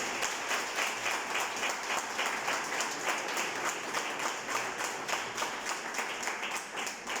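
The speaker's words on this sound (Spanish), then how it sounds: "denle ese aplauso a Cristo." A church congregation applauding during a sermon, loud continuous clapping with a rhythmic, partly synchronized pulse filling the hall.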